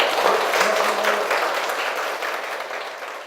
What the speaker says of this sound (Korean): 그래서 큰 박수 부탁드립니다